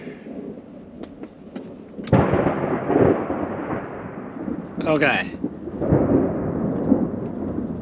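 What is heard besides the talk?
thunder during a thunderstorm while camping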